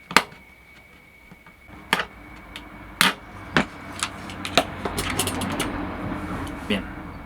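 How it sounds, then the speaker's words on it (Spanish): A blade scrapes insulation off a copper circuit track for an LED project, with sharp isolated clicks and scratches followed by a denser stretch of rasping, close and fairly quiet. "Quizá con la cuchilla raspando."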